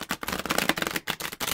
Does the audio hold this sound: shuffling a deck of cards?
yes